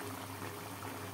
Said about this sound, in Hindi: यहाँ पर मैं पानी खुश्क कर रही हूँ गोश्त भूनने के लिए।